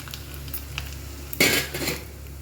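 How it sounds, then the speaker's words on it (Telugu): Crushed black pepper and cumin seeds drop into hot oil for a pesarattu-style pongal, setting off a sudden loud sizzle after a quiet stretch, then easing to a softer crackle with faint kitchen clatter. "ఆయిల్ వేడెక్కింది. దంచిపెట్టుకున్న మిరియాలు, జీలకర్ర యాడ్ చేస్తాము."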